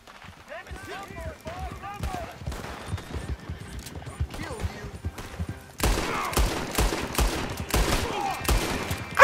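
A saloon gunfight in the video game Red Dead Redemption 2, with repeated sharp gunshots that grow louder and denser partway through, mixed with clattering hooves and a voice talking over the action.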